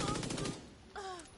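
A short burst of SMG fire in Tom Clancy's The Division 2, rapid cracking shots for about half a second at moderate loudness, followed by a brief ringing tonal sound.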